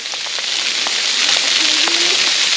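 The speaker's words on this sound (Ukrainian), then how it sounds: "Почався град." Hail and icy rain falling during a mountain hike in the Carpathians, a dense steady patter of pellets striking close by with scattered sharper ticks, continuous and fairly loud throughout.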